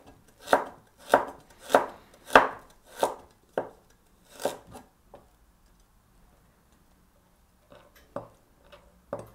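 Fresh ginger is chopped with a knife on a board, about eight crisp close-up chops in a steady rhythm, then a quiet pause and a few lighter taps.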